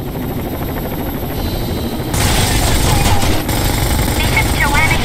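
Combat helicopter in the video game Rainbow Six Vegas 2, a loud steady rotor roar that swells in after about two seconds, mixed with dense rattling battle noise and what may be gunfire.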